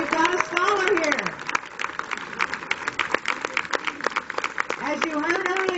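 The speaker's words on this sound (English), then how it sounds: "Let's give our family members a big round of applause for their support." At a scholar reception, an audience applauds family members in a thin, scattered patter of claps, while voices and harmonic speech-like sounds run over the start and end.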